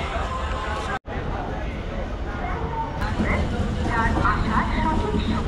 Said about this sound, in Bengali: ট্রেন ছেড়ে দিল খড়গপুর রেলওয়ে স্টেশন থেকে